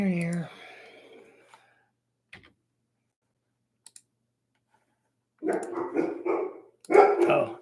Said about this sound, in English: Oh, the dogs are on alert.